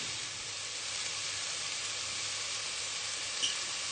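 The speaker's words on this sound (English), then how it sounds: "with the onions, to just saute them nicely" Onions sauté in a pan with a steady, even sizzle that holds close and moderately loud throughout, with no talking.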